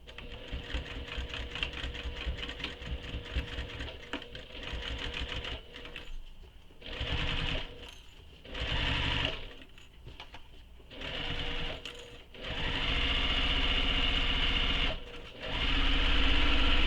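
A sewing machine stitches a seam on a tote bag in bursts, whirring rapidly for a few seconds at a time with short pauses between runs and a longer final stretch, close and clear.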